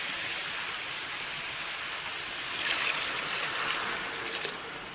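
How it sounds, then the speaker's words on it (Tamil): Steady rushing pour of water splashing into a pan of tomato chutney, continuous and close, with no talking. "ஒரு ஜார் தண்ணி கலந்து ஊற்றலாம்"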